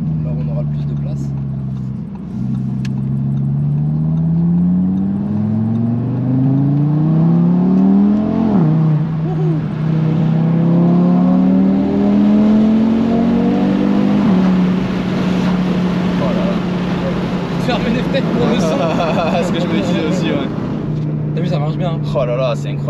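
A 2019 Audi RS3 engine droning and rising through gears while driving, a steady in-cabin hum with swelling revs, heard under ongoing conversation between occupants.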